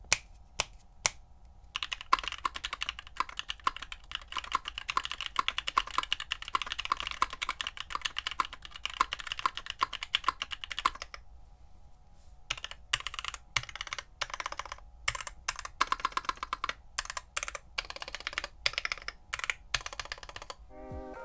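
Stock Prevail Epsilon JWK linear mechanical switches typed on a keyboard, giving a dense, steady run of close, crisp keystrokes with a brief pause midway and a quick burst of rapid presses at the end.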